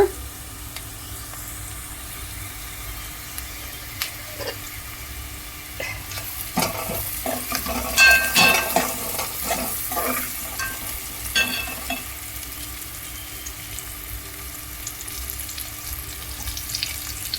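Onions frying in a pan for a taro root (chamadumpa) curry, a steady close sizzle with scattered stirring clatters and scraping, busier in the middle then settling back to a constant fry.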